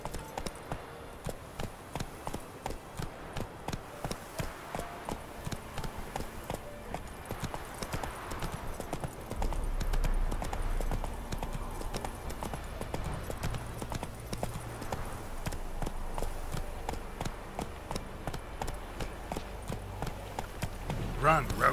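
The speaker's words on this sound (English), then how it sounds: "Run, Roach" Horse hooves clip-clop at a steady trot in The Witcher 3 video game, a continuous rhythmic gait running the whole time, with a low music bed swelling in partway through.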